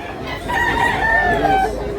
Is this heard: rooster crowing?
yes